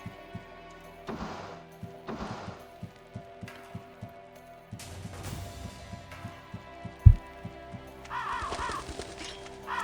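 Crows cawing in Ninja Gaiden Sigma: several harsh, separate caws spaced a second or so apart, over faint footsteps and a low ambient hum.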